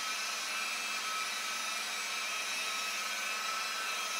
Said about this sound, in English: Continue to polish the surface like this and use a microfiber cloth in between to check the surface